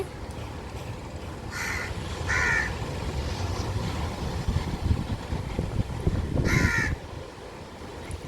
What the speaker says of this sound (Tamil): இப்போ இன்னொரு காக்கா வந்திருக்கு